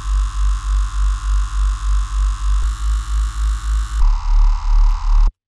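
A detuned Reese bass synth patch in Serum throbs in a slow, regular pulsing wobble, loud and buzzy, shifting timbre twice as settings change before cutting off abruptly.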